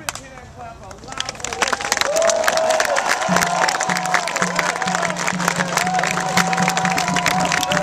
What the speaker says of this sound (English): A big hand clap, a loud